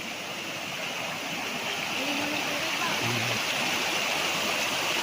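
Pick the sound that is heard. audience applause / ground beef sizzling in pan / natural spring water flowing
natural spring water flowing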